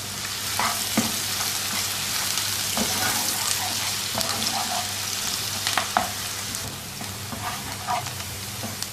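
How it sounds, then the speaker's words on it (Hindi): Finely chopped onion fries in oil with whole spices for a yogurt chicken dish, giving a steady close sizzle with occasional stirring scrapes and pops throughout. "और अब इसको इतनी देर तक फ्राई करेंगे कि प्याज जो है हल्का सुनहरा हो जाए।"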